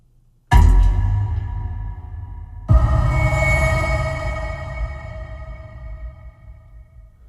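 Booms from the Waterharp Xpressions sample library: two deep, heavy impacts, the first sudden and loud, the second hitting about two seconds later, each with a long ringing metallic tail that slowly decays.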